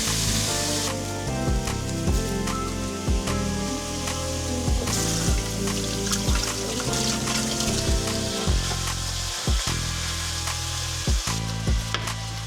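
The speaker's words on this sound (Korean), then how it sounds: "제육볶음을 볶는다" Spicy Korean pork (jeyuk bokkeum) stir-fries in a pan with loud, continuous sizzling and crackling, punctuated by scraping and clacking of a utensil against the pan, with no talking.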